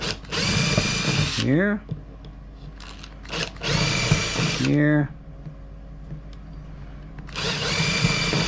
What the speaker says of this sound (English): And one more hole to drill in the center for the throw bar, for the switch rod.